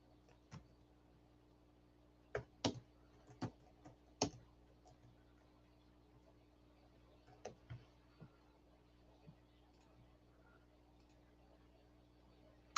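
Someone types on a computer keyboard in a quiet room, sparse isolated key clicks arriving in small irregular clusters with long pauses between, crisp and close against faint background hum.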